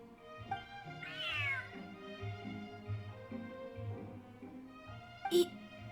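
A cat meows clearly in a drawn-out rising call, with a second short meow near the end over a quiet background, close to the listener.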